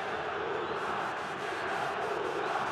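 Stadium crowd at Grêmio's Estádio Olímpico during a Copa do Brasil 2012 football match against Palmeiras, protesting at the referee: a dense, steady roar of many voices, loud and continuous throughout without distinct calls.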